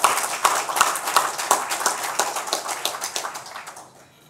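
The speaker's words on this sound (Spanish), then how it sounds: "pido un fuerte aplauso" Audience applause at a Dominican commemorative event, heard as a run of sharp, separate claps in a steady loose rhythm, fairly close and fading out near the end, with no talking.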